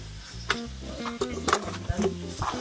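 Bacon, egg and beans fry for lunch in a pan, a steady close sizzle with scraping and stirring clinks of a utensil against the pan.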